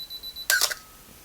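A single crisp mechanical shutter release on a Canon AE-1 Program 35mm film camera, a sharp close click right after the last faint self-timer beep, then quiet.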